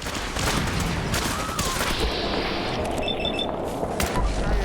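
Gunfire from Gunners attacking in the Fallout 4 video game: a dense, continuous fusillade of rapid shots and bursts, loud and sustained throughout with no speech.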